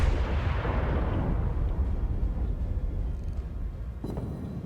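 The main guns of the battleship North Carolina fire in World of Warships, a heavy booming salvo that rolls out into a long decaying rumble, with a sharper crack near the end.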